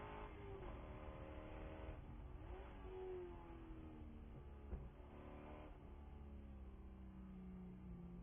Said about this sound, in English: there are 41 cars out on this racing surface right now